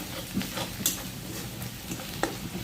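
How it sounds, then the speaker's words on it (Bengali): Rupchanda fish frying in a pan, a soft continuous sizzle with a few light clicks and taps of a utensil, close and moderately quiet. "এখন আপনারা মাছটা এভাবে ভেজে নেবেন"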